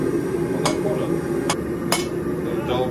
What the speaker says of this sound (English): you start by shaping the point of the knife by hammering in on the end of it at 45 degrees until it starts to go pointy